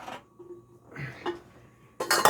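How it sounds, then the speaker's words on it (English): Metal cookware clanks and scrapes a few times, ending in a louder clatter as a heavy old frying pan used for candle making is set down and handled. "what I got here is basically an old frying pan"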